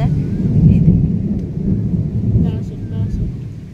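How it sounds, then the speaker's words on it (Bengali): Thunder rumbles low and heavy during a monsoon storm among coconut trees, a long rolling roar that swells and slowly fades, with faint rain in the background. "দেখো মেঘের গর্জন, ঘন ঘটা, কি দারুণ লাগছে।"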